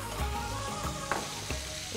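Chicken pieces sizzle and fry steadily in a pan with a little salt, with short scraping stirs breaking through the continuous close crackle.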